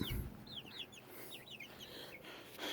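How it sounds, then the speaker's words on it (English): Backyard hens cluck and chirp softly in a garden coop, several short rising calls in scattered bursts, faint and somewhat distant over low background noise with no talking. "4 of these hens will be going to my buddy's house to start up his chicken coop"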